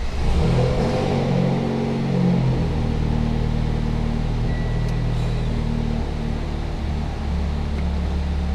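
A stock Mitsubishi Lancer Evolution X MR on flex fuel holds a loud, steady engine drone throughout, its pitch climbing and sagging slightly as the clutch slips between fifth and sixth gear, with no talk over it.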